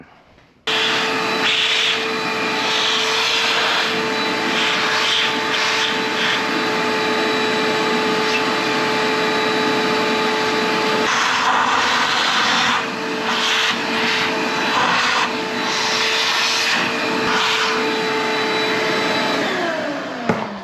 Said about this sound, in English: We're going to vacuum it.